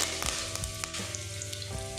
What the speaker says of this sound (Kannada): ಎಣ್ಣೆ ಕಾಯ್ದೈತಿ, ನಾನು ಇದಕ್ಕೊಂದು 2 ಗೆರೆ ಅಷ್ಟು ಕರಿಬೇವು ಹಾಕೋತೀನಿ.